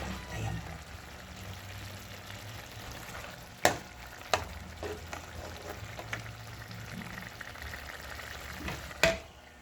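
Coconut milk simmering in a pan for cooking cassava leaves, a steady soft bubbling sizzle with occasional sharp clinks of a utensil against the pan.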